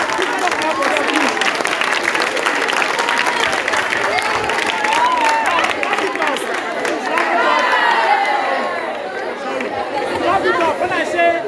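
A crowd at a school farming awareness event at Royal Spry College, Toga, Badagry, claps and chatters steadily throughout, with lively voices mixed into the continuous applause.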